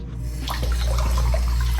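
Tap water runs steadily into a bathroom sink while someone washes their face, a close, continuous splashing stream with a few brief spatters and no talking.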